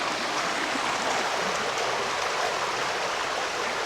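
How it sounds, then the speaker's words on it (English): Steady broadband rush of creek water flowing over and around down logs along a wooded trail, continuous and fairly close with no talk over it. "I'm surprised Winston's not getting in the creek"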